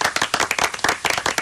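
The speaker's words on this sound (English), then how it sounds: "have a round of applause on me, Michael" A close round of clapping hands, dense and steady with sharp individual claps, lasting about a second and a half on a radio show.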